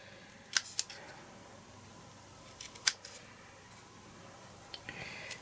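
Scissors trimming a paper card sentiment for a handmade greeting card, a few quiet, crisp snips heard close by, separated by near silence.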